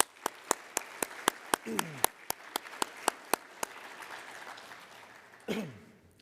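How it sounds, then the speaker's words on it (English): A crowd at a youth soccer awards gala applauds steadily for an honoree, the sustained clapping broken by sharp close claps and a few brief voices and coughs nearby. "Let's give her one more round of applause"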